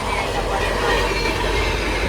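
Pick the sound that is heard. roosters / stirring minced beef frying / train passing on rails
train passing on rails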